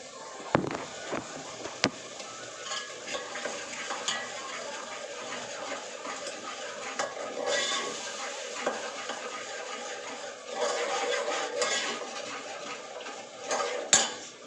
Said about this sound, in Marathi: बघू शकता तुम्ही मी टाकले आता वाटण.